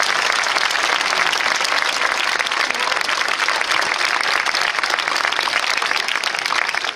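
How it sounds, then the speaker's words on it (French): A crowd at a fiftieth-anniversary celebration of Les Demoiselles de Rochefort gives warm applause, dense, loud, continuous clapping from many hands that fills the room without a break. "Je vous invite à les applaudir chaleureusement"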